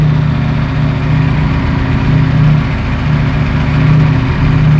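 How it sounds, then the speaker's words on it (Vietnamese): A Ducati Panigale V4S motorcycle with its stock exhaust idles close by, a steady, even low rumble that holds level throughout with no revving or voices. "Các bạn nghe thử tiếng bô đi ha."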